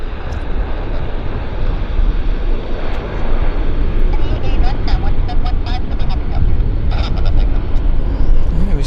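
A heavy airliner roars along the runway at Vancouver Airport, a loud broadband engine rumble and rush that holds steady throughout, with people talking over it.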